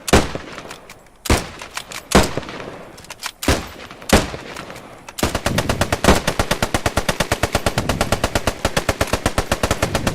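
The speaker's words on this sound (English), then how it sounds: "Bren team, suppressing fire" Bren machine gun laying down suppressing fire in the WWII game Post Scriptum: loud separate shots and short bursts at first, then a long, rapid, evenly paced stream of close automatic fire.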